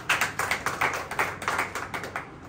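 Hands clap in a church worship gathering, a steady rhythmic series of about a dozen sharp claps at a moderate, even pace, fairly close and alone without talk.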